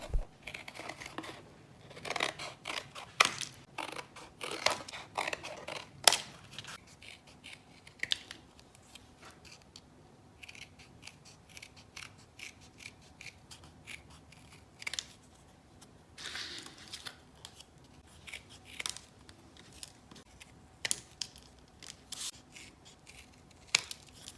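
Scissors cut small leaf shapes out of stiffened fabric from an old bedsheet, giving a quiet, close run of sharp snips and crisp rubbing clicks in irregular bursts, with no talking.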